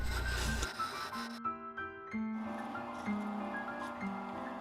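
A small walnut knob being turned on a wood lathe gives a steady, close rubbing and scraping sound with a sustained humming tone that shifts partway through, continuous and with no talking.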